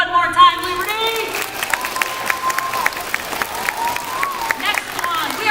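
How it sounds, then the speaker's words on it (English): School children at Liberty School clap and cheer in a crowd, with excited high voices and shouting over scattered claps throughout. "So clap for me one more time, Liberty!"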